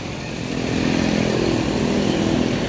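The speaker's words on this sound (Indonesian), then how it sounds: "Motor." A motorcycle engine drones near a bus terminal departure area, a steady buzzing idle and light revving held for a couple of seconds after a quiet start.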